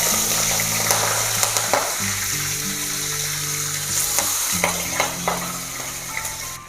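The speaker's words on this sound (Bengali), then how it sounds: "মাছ হালকা করে ভেজে নিচ্ছি।" Shrimp frying in hot oil over medium heat, a steady close sizzle and crackle with occasional sharper pops and spatters, with a low tonal hum running underneath throughout.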